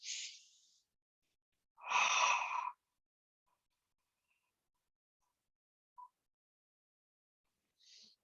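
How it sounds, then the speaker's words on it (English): Yoga friction breathing with the throat constricted: a few soft, hissing exhalations and breaths with long silent gaps between them, close and quiet, with no talk. "so when you hear yourself breathing out with the friction"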